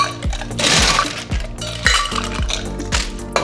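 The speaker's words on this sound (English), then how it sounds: "load both of your shakers if you're making two at a time with ice" Ice cubes tumble and clatter into two cocktail shakers for gin gimlets, a series of sharp, close, loud clinks and rattles in several quick bursts with no talking.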